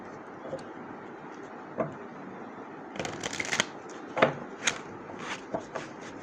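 Tarot cards being shuffled by hand up close, with a few soft riffles and flicking slaps over a low background hiss.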